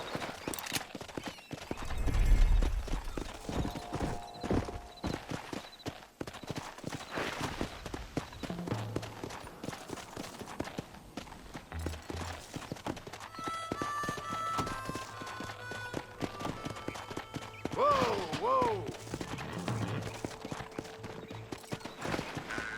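Horse hooves clip-clop steadily in the video game Red Dead Redemption, a soft, rapid clatter running throughout, with an occasional neigh and faint tonal game sounds behind.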